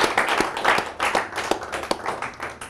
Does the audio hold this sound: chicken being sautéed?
no